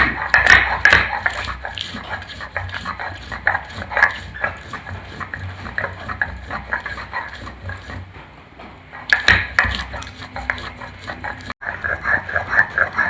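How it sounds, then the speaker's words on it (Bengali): Chilli, ginger and cumin are ground together into a paste for potol kasundi, a steady, busy scraping and rubbing that continues close by through most of the stretch, with a brief lull before it picks up again. "ঝাল, আদা ও জিরে একসঙ্গে বেটে নেব।"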